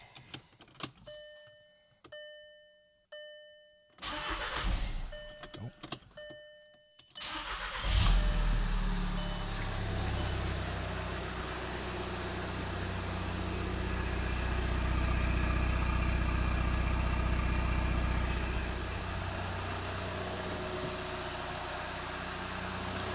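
A VW TDI diesel engine fitted with a new downpipe cranks over in a garage and catches, then settles into a steady, loud idle with a deep low rumble that carries on to the end.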